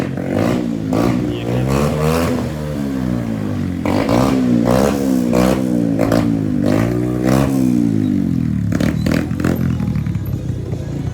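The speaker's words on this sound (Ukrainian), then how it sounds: "Чувак витягнув глушак з мопеда, заганяється." A small two-stroke moped engine with its muffler removed revs hard and raw, rising and falling in repeated loud bursts, with a rough, unmuffled buzz throughout.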